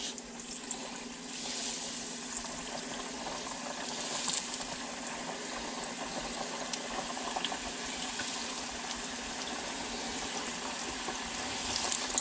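Pigfish fillets, about six, frying in a pan, giving a steady, even sizzle that holds without a break throughout, close and moderately loud.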